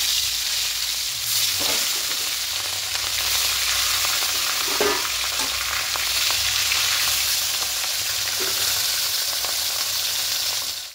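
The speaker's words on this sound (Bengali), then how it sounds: "এবার তেলের মধ্যে মাছগুলো একে একে ছেড়ে দেবো" Steady, loud sizzling of catla fish pieces frying in hot mustard oil, a continuous crackling hiss with a few faint clinks throughout.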